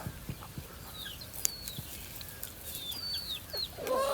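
A two-year-old native country rooster clucks softly in short, scattered calls over a quiet outdoor background, with a few faint higher chirps and no talking.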